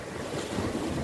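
Mediterranean sea waves wash in at the Nile mouth beside stone breakwater heads, a steady broad surf roar mixed with gusting wind noise on the microphone, with no clear individual breakers.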